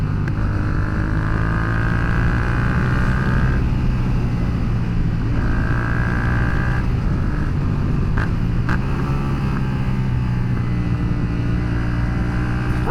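Yamaha FZ-07 motorcycle engine droning steadily while being ridden, loud and continuous with a harmonic engine tone that rises and falls slightly, plus wind rush, no talking.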